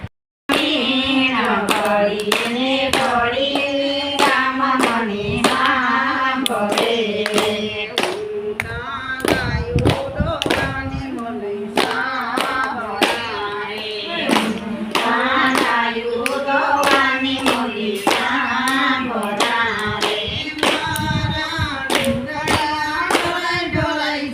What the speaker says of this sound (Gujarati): વૈષ્ણવ બહેન તાળીઓ કરે